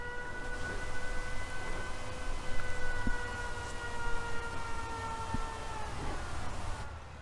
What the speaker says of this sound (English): she's going to head up to the bunker and kill that siren.